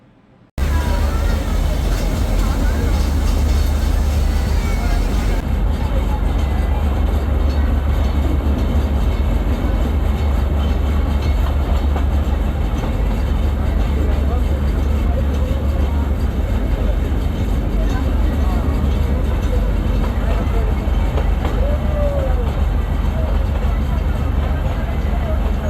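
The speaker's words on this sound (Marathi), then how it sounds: "तर आत्ता मी आहे टॉय ट्रेनमध्ये स्टेशनवर" The Matheran toy train rides out from the station, giving a steady loud low rumble and rattle of the carriage in motion from inside the coach, continuous throughout.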